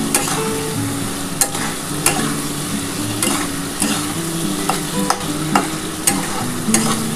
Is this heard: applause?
no